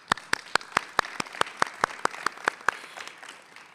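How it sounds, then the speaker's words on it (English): A candidate forum audience applauds in an aquarium venue, though the sound is mostly sparse, evenly spaced loud claps, roughly one every fifth of a second, over a faint wash of clapping that fades toward the end. "So let's give them a round of applause"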